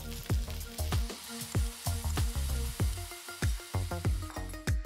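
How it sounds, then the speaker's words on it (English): Minced green onion, ginger and garlic sauté with chicken meatballs in a pan for green curry, a close, steady sizzle broken by regular scraping stirs about twice a second, with no talking. "We're gonna saute all this with our meatballs for a couple of minutes"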